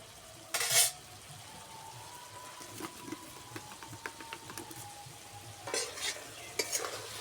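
Fish curry (ghonia fish jhal with onion) simmering in a pan, a soft, faint bubbling sizzle under repeated light stirring and scraping clicks, with a couple of louder clatters of the utensil.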